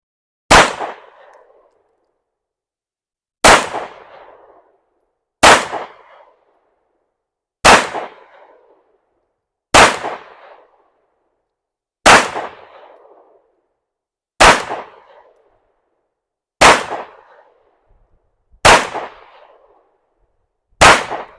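Ten loud, sharp gunshots from a PSA Dagger pistol firing steel case ammunition, spaced roughly two seconds apart, each a crisp crack with a short ringing echo tail, close and alone.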